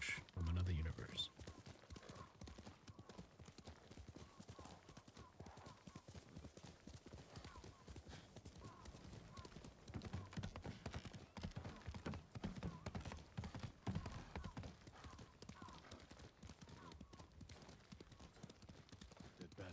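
A horse's hooves clip-clop steadily and rhythmically throughout in Ghost of Tsushima, a fairly quiet game mix with faint background sounds.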